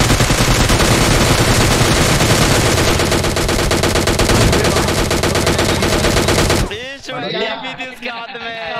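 Sustained rapid automatic gunfire from a PUBG Mobile Lite firefight roars loudly for several seconds, then stops abruptly and people talk excitedly.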